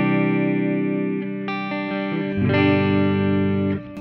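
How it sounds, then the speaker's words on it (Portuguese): Electric guitar played through a soft reverb on a Kemper Mesa/Boogie John Petrucci JP2C preset: a sustained, heavily distorted chord shifts into a new sustained chord partway through, then cuts off near the end, loud and up front with no talking. "Aí vamos lá, reverb, primeiro esse reverb aqui,"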